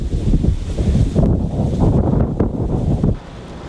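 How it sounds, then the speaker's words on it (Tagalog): Strong storm wind roars into the microphone with heavy rain, a dense continuous rush that drops off abruptly near the end. "Bigla itong nagbuhos ng malakas na ulan, kasabay ang malakas na ihip ng hangin."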